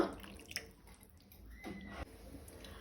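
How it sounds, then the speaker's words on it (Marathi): A little water poured into a pan of clams for Goan dry clam sukhe with green chillies, heard as soft drips and splashes with a brief trickle, faint and close. "थोडेशे उदक घालता।"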